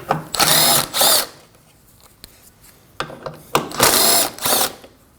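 A power tool removes two 10 millimeter bolts from the radiator and condenser fan bracket on a 2015-2024 Ford Edge 2.0L, with several loud, close bursts of whirring separated by pauses and light clicks.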